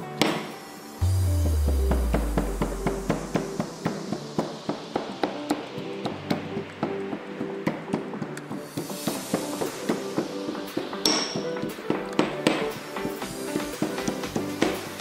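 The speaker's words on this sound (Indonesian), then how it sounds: "Ambil jantung, kemudian haluskan dengan lumpang dan alu." A chicken heart is pounded with a mortar and pestle in a school enzyme experiment, producing a fast, regular run of close, sharp knocks after a brief low tone at the start.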